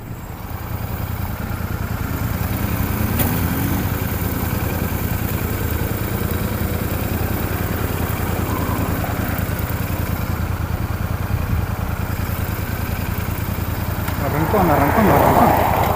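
A Royal Enfield Super Meteor 650 motorcycle engine idles with a steady low rumble, then revs up toward the end as the bike pulls away.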